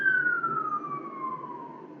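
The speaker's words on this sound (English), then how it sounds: "I apologize if you guys heard the ambulance go by" An ambulance siren passes on a busy road near a fire station, its single wail sliding slowly downward as it moves away over a low traffic rumble.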